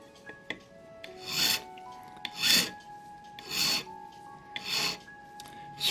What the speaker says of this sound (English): Spinning the pin vise between your thumb and finger till it's nice and smooth.